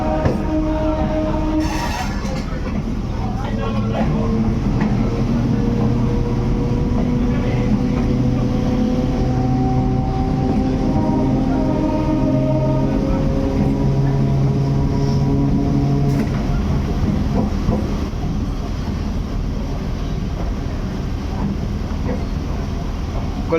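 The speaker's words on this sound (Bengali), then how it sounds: "এই মুহূর্তে কাশিমবাজার রেল স্টেশন ছেড়ে যাচ্ছে ট্রেন।" An Azimganj-Kasimbazar MEMU passenger train pulling out of Kasimbazar station, with a loud, continuous rumble and droning motor tones that rise in pitch as it gathers speed, plus wheel clatter close by.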